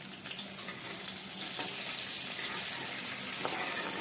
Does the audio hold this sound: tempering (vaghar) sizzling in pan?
yes